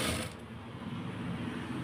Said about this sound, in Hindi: अब मुझे इसको ऐसे फोल्ड करके मुझे इसके ऊपर सिलाई लगानी है।